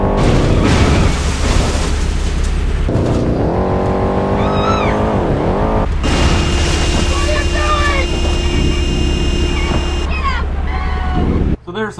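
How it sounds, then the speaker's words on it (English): Midtown Madness driving game effects: a continuous car engine drone layered with booming crashes, blaring car horns and shouting voices, loud and dense, cutting off abruptly at the end. "here's some sound effects you can expect to hear while playing the game"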